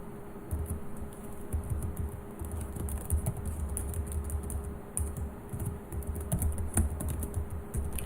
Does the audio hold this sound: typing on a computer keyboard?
yes